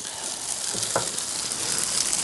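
Juicy fish steaks sizzling on a grill, a steady close crackle and hiss of frying with a few sharper pops and scrapes, no talk.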